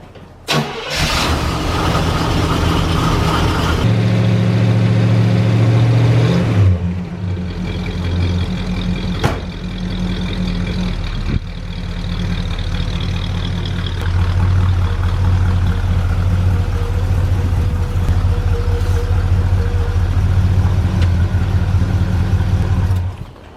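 A 1969 Oldsmobile 442 cranks and fires up loudly up close, then revs hard a few times before settling into a deep, lumpy idle that rises again in the later stretch, with no talking over it.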